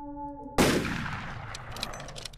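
A single loud, close gunshot in the Skinwalker Hunt video game breaks a quiet tonal hum, then rings out in a long decaying echo with faint scattered sounds afterward.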